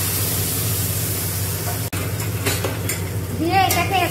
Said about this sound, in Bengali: দিয়ে এটাকে এরকম করে নাড়তে হবে।